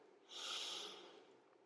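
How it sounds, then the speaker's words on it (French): A single slow, deep breath is drawn in and released close to the microphone during a quiet yin yoga practice, soft and airy with a gentle rise and fade. "J'inspire et j'expire"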